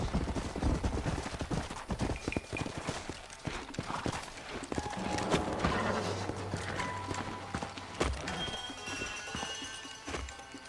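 Horses' hooves clip-clop steadily across ground in the Red Dead Redemption western video game, a dense run of overlapping hoofbeats at moderate distance, with a faint whinny and scattered taps mixed in.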